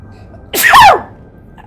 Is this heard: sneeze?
yes